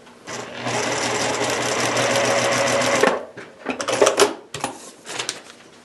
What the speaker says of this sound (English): So I've sewn that.